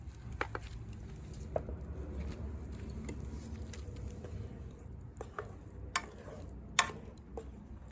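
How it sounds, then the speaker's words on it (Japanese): Onions stir-fry in a frying pan over a campfire outdoors, with a soft steady sizzle and scattered ticks and scrapes of stirring. No one speaks. "フライパンで炒めていきます。"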